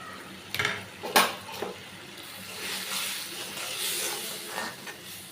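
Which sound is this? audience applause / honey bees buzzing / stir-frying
stir-frying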